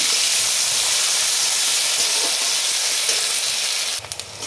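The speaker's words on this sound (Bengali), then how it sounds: "এরপরে আমি পেঁয়াজ কুচানো দিয়ে দিচ্ছি।" Chopped onion frying in oil in a pan gives a strong, steady hiss close up, with a few clatters near the end.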